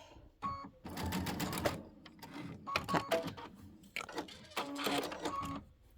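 Sewing machine stitching fabric in several short bursts of rapid mechanical whirring, separated by pauses, fairly close and moderately loud.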